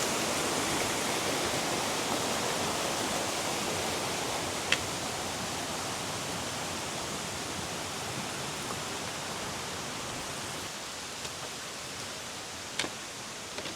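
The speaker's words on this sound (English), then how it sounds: "I am alone in this waterfall." A secluded Tat Sae waterfall roars as a steady, dense wash of falling water, close and constant with no voices.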